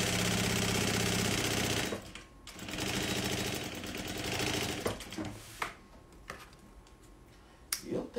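A sewing machine stitches fabric for a small cloth bag with a 0.5 cm seam allowance, a dense rapid needle rhythm running loud for two seconds before breaking into shorter stop-start bursts and faint clicks, close and without talk.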